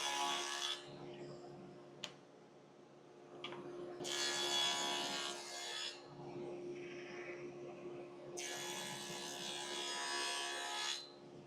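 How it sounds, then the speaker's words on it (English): A hand saw cuts notches into wooden shelves in bursts of rasping back-and-forth strokes, with pauses and small knocks between, close up. "Now we're ready to cut the notches on the actual shelves."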